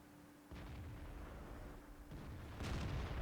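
A tank's main gun firing in the World of Tanks video game, T20 match: a heavy, muffled boom jumps out of steady battle noise, and a second, louder burst follows a couple of seconds later.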